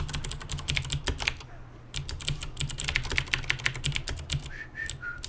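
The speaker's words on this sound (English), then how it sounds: "There's typing machine noise." Rapid clattering keystrokes on a computer keyboard, in bursts of quick taps with a short pause, close and fairly loud over a low background hum.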